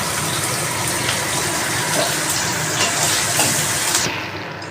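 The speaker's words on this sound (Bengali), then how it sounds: "পেঁয়াজটা ভালোভাবে ভেজে নিতে হবে।" Chopped onions fry in hot oil with cumin for a duck meat curry, producing a loud, close, continuous sizzle that sounds almost like gushing water. The sizzle drops away abruptly near the end, and no one speaks.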